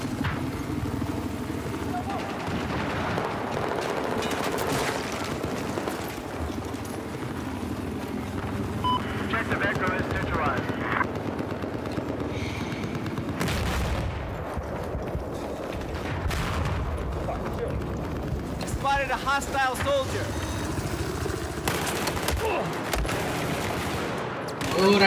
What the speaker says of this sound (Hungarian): Helikopter van, de nem is talál le, csak mellettem robban a föld, és sérülök folyamatosan lefele.